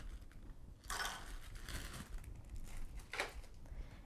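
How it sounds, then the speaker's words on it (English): Ice cubes are tipped into a bowl in two short clattering bursts, with loose cracking and rattling between them, close and fairly quiet. "grab another bowl, put in some more ice cubes"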